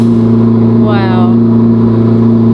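A 2026 Corvette ZR1X idles loud and close with a steady low engine drone, one brief rev swelling and fading midway, while a voice talks over it.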